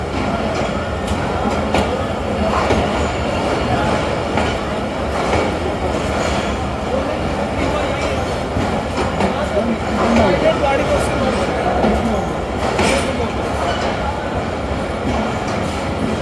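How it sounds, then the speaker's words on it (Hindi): The Karachi Express pulls into a railway station platform, a steady, loud rumble of wheels and carriages that continues without a break, with background crowd noise mixed in. "जब आपकी ट्रेन आपके रेलवे स्टेशन के प्लेटफॉर्म पर अराइव होती है, प्लेस होती है, पहुंचती है।"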